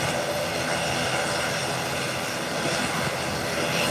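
Continuous broadband roar of a British Airways Boeing 777's jet engines as the airliner rolls slowly along the runway, steady and fairly loud with no voices over it.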